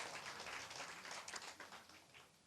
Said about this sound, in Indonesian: Tepuk tangan dulu dong untuk mereka.